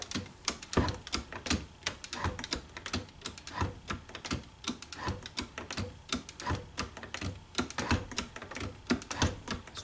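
A shop-built hand shaper takes a heavy cut off the front edge of a metal workpiece, giving a rapid run of sharp, close scraping clicks and chatter that repeats steadily with no talking.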